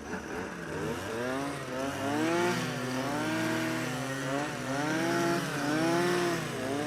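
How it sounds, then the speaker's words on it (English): A gasoline string trimmer runs close by, its engine revving up and down in repeated swells with a buzzy, rising and falling pitch. "now having refueled his trimmer"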